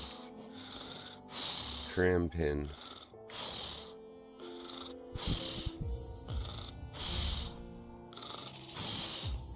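The video game character Cornifer snores in a loose rhythm of repeated breathy, snorting bursts, while a person talks over them.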